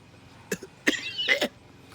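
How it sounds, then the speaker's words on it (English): A person gives a few short morning coughs, three separate bursts spaced about half a second apart, close and fairly quiet against a silent background. "Sorry, morning cough."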